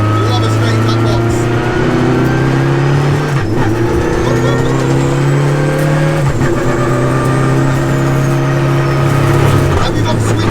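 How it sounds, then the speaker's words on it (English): A K24-turbo Renault Clio with a straight-cut gearbox gives a loud, close engine drone inside the cabin, with rising and falling gear whine across several shifts and a high whistle on top. "Transmission noises. Love a straight cut box."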